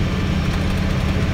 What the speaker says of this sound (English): tonight we're on the tractor